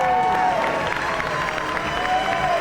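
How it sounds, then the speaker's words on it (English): A crowd applauding and cheering at the 2003 IJA juggling event in Reno, a steady wash of clapping and shouts with music-like tones running underneath. "The crowd seems to really be on their side."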